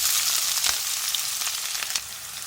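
Chopped onions fry in a pan with cumin for an aloo matar curry, giving a steady, close hiss of sizzling broken by a few soft stirring scrapes.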